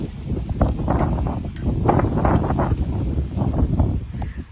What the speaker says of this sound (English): this wind started picking up even more